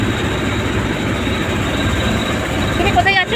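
Passenger launch on a river, a ferry boat, with its steady engine drone rumbling loud and close throughout, a brief higher whine near the end.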